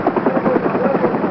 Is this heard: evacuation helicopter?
yes